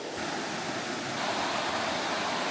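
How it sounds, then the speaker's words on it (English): A hidden waterfall in Oregon's Coast Range pours steadily beside a river, a close, full rushing roar that holds constant throughout with no one speaking. "There's the waterfall."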